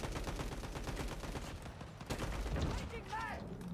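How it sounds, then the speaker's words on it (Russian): Rapid automatic rifle fire in the mobile shooter Call of Duty Mobile, a dense run of repeated shots sustained throughout, with game ambience and a brief voice-like chirp near the end. "Автомат."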